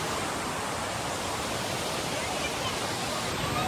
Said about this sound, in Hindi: एक बार और मन कर रहा था इस झरने का दृश्य लेने का।